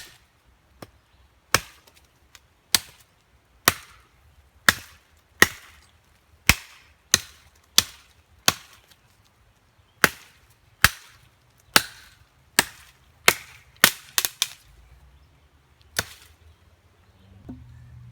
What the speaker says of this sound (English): So I'm going to take this tree down to get to the camp and see how it does.